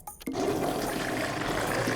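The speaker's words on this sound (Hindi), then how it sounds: "ये टॉयलेट फ्लश की आवाज है।" A toilet flushes with a sudden rush of water after a short click, then a loud, steady roaring gush that continues to the end.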